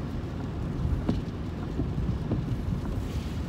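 Rain heard from inside a moving car with the windshield wipers on: a steady, muffled low rumble of rain and road noise with a few faint knocks, and no voices.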